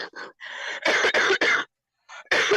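Several harsh coughs in quick bursts, close and loud, with short pauses between them and a final cough after a brief silence.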